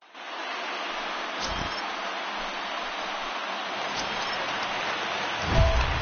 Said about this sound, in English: There is rain in the air.